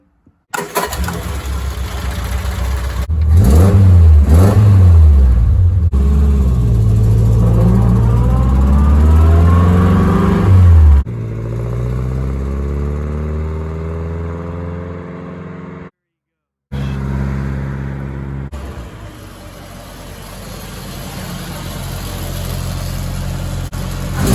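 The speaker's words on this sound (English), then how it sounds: "All that's left now is the test drive." After a rear seal repair, a car engine starts with a loud crank and catch, then revs up and down in rising and falling sweeps before settling to a steady run, close and loud, with a brief cut partway through.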